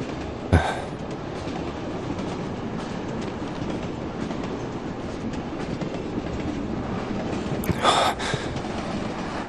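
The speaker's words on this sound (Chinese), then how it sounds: "这火车都是这么晃的吗？" Steady, loud rattling and clattering of a moving passenger train heard from inside a carriage, continuous throughout with a couple of sharper knocks and no talking.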